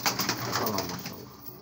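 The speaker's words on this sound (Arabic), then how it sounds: "هاي هون اغلب الحمام يعني" Domestic pigeons coo on a rooftop loft, a short run of soft, rolling, repeated coos heard close and fairly clear.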